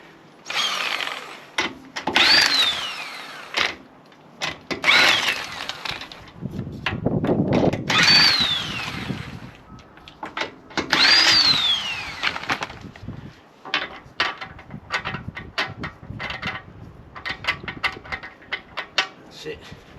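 Power tool, likely an impact gun, loosening the wheel bolts on a 2010 VW Passat rear wheel raised on an axle stand. It sounds in several loud, sustained bursts, each ending in a whining spin-down, with shorter rattling bursts between them and no talk.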